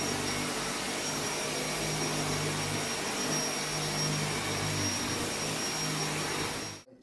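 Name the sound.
carpet cleaning machine vacuuming a dark carpet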